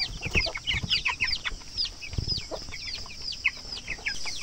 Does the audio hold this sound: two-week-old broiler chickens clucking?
yes